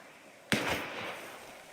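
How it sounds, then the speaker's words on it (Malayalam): A rocket launches in a multiplayer shooter game, a single sharp whooshing blast followed by a decaying rushing tail that fades over about a second, with no talk over it. "ഒരു റോക്കറ്റ് വിട്ടിട്ടുണ്ട്"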